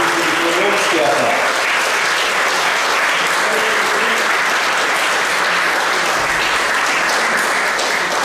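Sustained applause from an audience at an anniversary ceremony marking 40 years of the Domžale chamber of crafts and small business, a dense, steady clatter of many hands filling the hall with no break.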